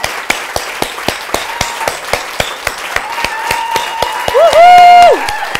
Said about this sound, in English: we have to give Sonia another round of applause for sharing her journey with us